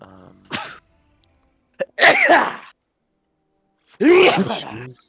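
A person sneezes twice, loud and close, with a sharp intake of breath before each burst and short quiet gaps between them.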